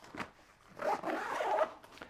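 A YKK zipper on a Kiboko City backpack is pulled open in a soft, close rasping run lasting about a second, faint and without talking.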